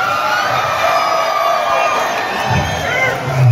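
A crowd at a concert in the Asheville Civic Center cheers and whoops continuously, a loud sustained roar with scattered shouts swelling near the end.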